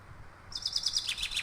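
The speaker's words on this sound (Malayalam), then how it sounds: "എന്താ കിളി വരണ സൗണ്ട് കേൾക്കണം ഗൈസ്." Short, bright bird chirps in a dinosaur-hunting video game begin after a brief quiet pause, repeating in a quick, rhythmic series at a steady, moderate volume.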